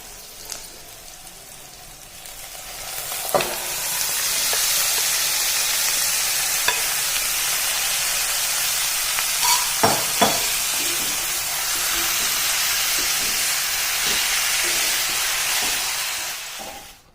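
Minced meat (keema) sizzling in a pan of browned onions, a steady loud frying hiss throughout with a few sharper clinks and scrapes of stirring, no voices.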